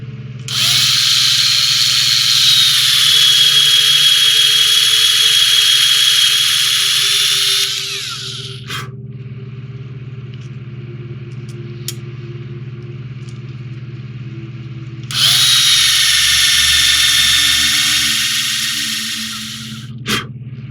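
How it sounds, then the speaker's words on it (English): A power drill bores into the plastic hull of an AMT Star Trek U.S.S. Enterprise 1:650 scale model kit in two loud, sustained high-pitched whirring bursts, with a quieter low hum between them. "I'm gonna have to drill this side as well."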